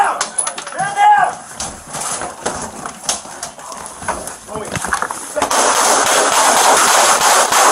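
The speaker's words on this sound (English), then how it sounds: "Shots fired." Gunshots ring out in a police bodycam shootout with a suspect, sharp loud cracks scattered among shouting officers and radio chatter, close and chaotic, with a harsher steady noise building near the end.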